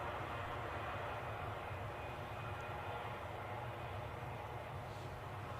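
An Aegean airliner taxiing at Edinburgh airport gives a steady, fairly distant jet-engine rumble and whine, even and unbroken throughout.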